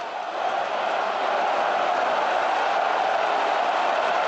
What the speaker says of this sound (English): Now listen to this crowd.